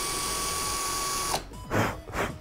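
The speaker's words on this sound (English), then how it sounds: "we have to cut out the individual holes for the buttons. Got my drill here." A power drill bores button holes into a wooden Switch Pro controller shell, whining steadily and loudly up close before cutting off, followed by a few short rough bursts of drilling.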